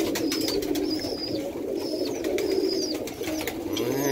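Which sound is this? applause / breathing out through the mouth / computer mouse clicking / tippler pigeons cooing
tippler pigeons cooing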